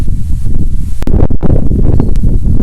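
Loud, roaring wind buffets the microphone throughout, with gusty rumbling and occasional rustling.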